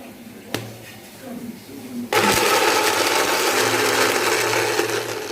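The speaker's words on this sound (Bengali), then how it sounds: "তো আমি এখন ব্লেন্ডারে এটাকে পেস্ট করে নিচ্ছি" Fruit and water in a blender for a paste for shahi beef kacchi biryani: after a quiet stretch with a sharp click, the motor kicks in with a loud, steady whirring grind that runs to the end.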